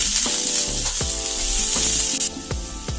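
Chopped onion sizzles and crackles steadily in hot oil in a pan, with a few stirring scrapes, loud and close with no talking.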